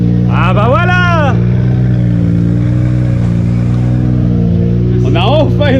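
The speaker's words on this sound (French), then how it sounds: "on a enfin une vraie caisse de drift" Loud, steady engine drone from a drift car at a French drift championship in Calmont, holding a sustained roar throughout with voices talking over it near the start and end.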